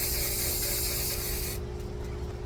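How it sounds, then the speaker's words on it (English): An aerosol can sprays a steady, loud hiss inside a cloth lekku cosplay headpiece, continuing for about a second and a half before cutting off, leaving a low background hum. "I'm gonna spray inside here and then pop it on."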